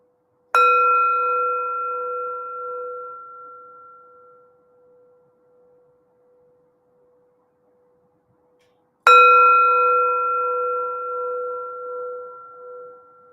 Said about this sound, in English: Y'all don't mind if I hit my bell, right?